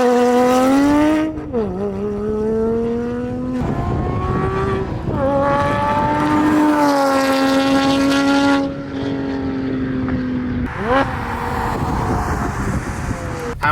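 A Porsche fitted with Soul headers roars loudly and close through several long high-revving pulls, with the pitch climbing, dropping back at each shift, then rising again.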